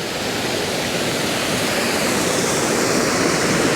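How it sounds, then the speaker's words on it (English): A river beside the restoration site of a 250-year-old canal rushes in a loud, steady broadband roar, close and unbroken throughout. "And this is a river."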